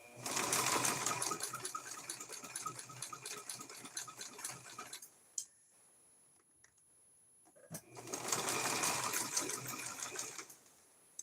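A sewing machine zigzag-stitches over string on coasters, running in a fast, loud mechanical chatter for about five seconds, stopping for a quiet pause with small clicks, then starting again in another sustained burst.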